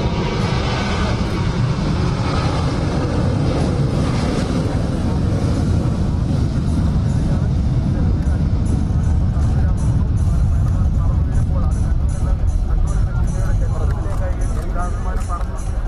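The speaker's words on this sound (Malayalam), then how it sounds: "വിമാനത്താവളത്തിൽ നിന്നുള്ള ആദ്യ അന്താരാഷ്ട്ര വിമാനം അബുദാബിയിലേക്ക് എയർ ഇന്ത്യ എക്സ്പ്രസിന്റെ IX715 പറന്നുയർന്നിരിക്കുന്നു." Air India Express flight IX715, the first international departure from Kannur International Airport to Abu Dhabi, takes off with a loud, continuous low jet roar that holds steady throughout, while a voice talks over it.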